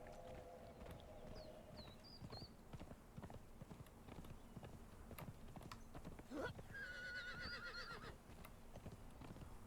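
A horse in the Conan Exiles video game whinnies and snorts while its hooves clip-clop in a steady trotting rhythm, close by, with a brief whoosh and other game effects mixed in.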